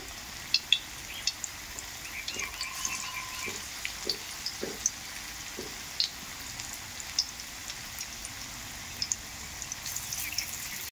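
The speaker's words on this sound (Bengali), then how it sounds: "দেখুন বড়াগুলো কত সুন্দর ভাজা হচ্ছে। হালকা আঁচে বড়াগুলোকে ভেজে নিতে হবে।" Banana flower fritters fry in oil in a pan over low heat, giving a quiet, steady sizzle with scattered small pops and crackles throughout.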